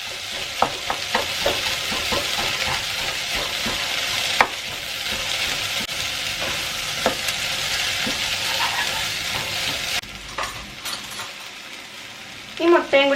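Broken wheat fried rice being stirred in a pan, a steady close sizzle with repeated scraping and clinking of a spatula against the metal over more than ten seconds, ending with a few louder knocks.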